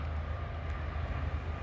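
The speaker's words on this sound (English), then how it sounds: "Looks like a grainer train." Grain freight train passing close by, a continuous low rumble with the rolling clatter of wagons, steady and loud throughout.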